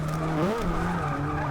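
Nissan Silvia with a 1.6 liter rally engine in the Forza Motorsport 6 racing game, its engine droning steadily with a revving pitch rise midway, loud and continuous, with tire skid noise and no talk.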